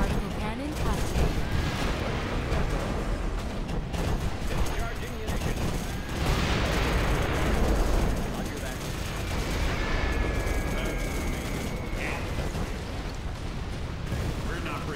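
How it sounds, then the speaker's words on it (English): A particle cannon superweapon strikes in Command & Conquer Generals with a dense, continuous roar of crackling blasts and gunfire-like bursts lasting the whole stretch. Loud battle noise fills the scene and swells midway, with game voice lines under it. "Particle cannon ready."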